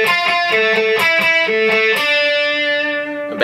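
A heavily distorted electric guitar plays a slow alternate-picking exercise, with crisp repeated picked notes that climb and drop, then a final note held and sustained, loud and close.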